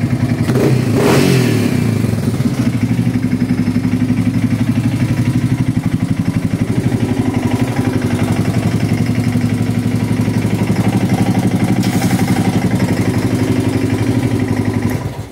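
A Yamaha XT600 motorcycle engine, just repaired for a fuel leak from the carburetor vent, runs close and loud with a brief blip of revving at the start, then settles into a steady, even thumping idle that holds until it cuts off at the end.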